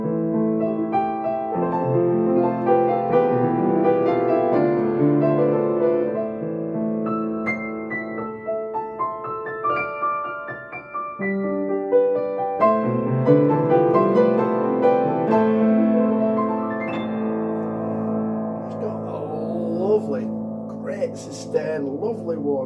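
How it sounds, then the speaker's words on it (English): A Danemann upright piano in a light oak finish, built around 1971, played with full chords and flowing melodic lines, rich and close, with no talking over the music. "It's a Danemann piano, manufactured approximately 1971, in a lovely light oak finish."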